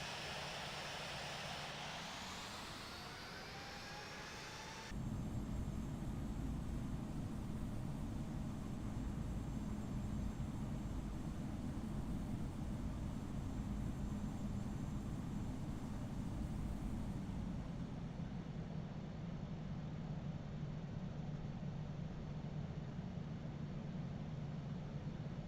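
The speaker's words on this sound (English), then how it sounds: "Taxiing to runway 26 left" Airliner in the Infinite Flight flight simulator taxiing toward runway 26 left at Atlanta: a steady engine whine and rumble, rising after a few seconds and holding level for the rest, with no voices.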